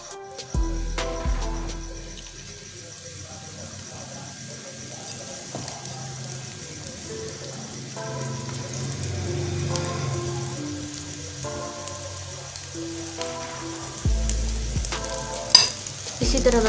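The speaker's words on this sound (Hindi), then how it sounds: "ऑयल बहुत अच्छा सा गर्म हो चुका है। अब हम इस पर पकौड़े बनाना स्टार्ट कर देंगे।" Spinach pakoras spooned into hot oil fry with a soft, continuous crackling sizzle like light rain, punctuated by occasional clinks and splashes, with faint tonal sounds in the background.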